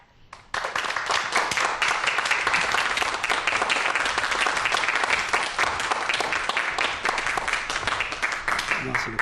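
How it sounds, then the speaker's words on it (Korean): A studio audience gives loud, dense applause to welcome a professor lecturing on computer viruses, starting abruptly and continuing vigorously and evenly throughout. "큰 박수로 모시도록 하겠습니다"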